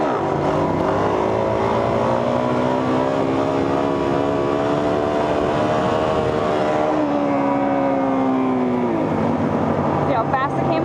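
A motorcycle engine climbs steadily through third gear as the bike lifts into a wheelie, a loud, close, rising drone that drops in pitch near the end with wind noise throughout.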